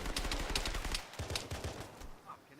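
Gunfire in the military video game ARMA 3, a quick burst of rapid sharp shots followed by a few scattered pops, fading out at the end.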